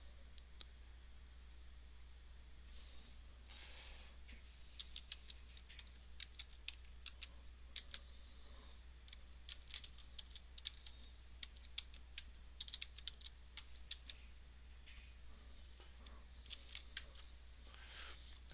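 Rapid typing on a computer keyboard, quiet close-up key clicks in quick irregular bursts over a low steady hum, continuing for the whole stretch with no one speaking.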